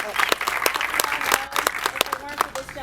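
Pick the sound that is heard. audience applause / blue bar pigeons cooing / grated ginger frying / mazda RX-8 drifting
audience applause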